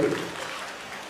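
Applause from an audience at a community awareness gathering with dance and music performances and an award ceremony, heard faintly and briefly as a soft, diffuse patter.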